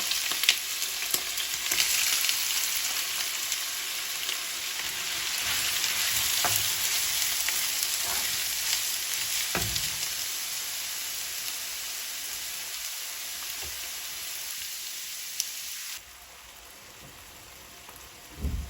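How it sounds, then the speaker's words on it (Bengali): Chopped onion, about a cup, sizzling in hot oil with whole garam masala spices in a home kitchen: a dense, steady hiss that continues until it drops away sharply near the end. "পেঁয়াজটা লাল লাল করে ভেজে নিব।"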